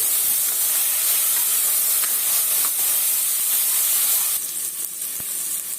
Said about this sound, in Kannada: ಈಗ ಹೆಸರು ಕಾಳು ಅದನ್ನು ಸೇರಿಸ್ಕೊಳ್ತೀನಿ ಸ್ವಲ್ಪ ಎಣ್ಣೆನಲ್ಲಿ ಹುರ್ಕೊಳ್ಳೋಣ